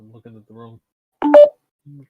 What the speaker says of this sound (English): That was my phone. I was putting on silent.